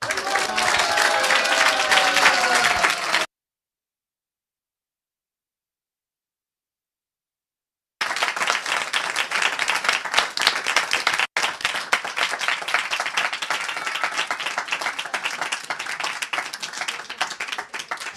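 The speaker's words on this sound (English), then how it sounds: "a big round of applause again" An audience at a devotional Krishna talk breaks into sustained applause, dense and loud, with a cut to silence partway before the clapping resumes and carries on steadily.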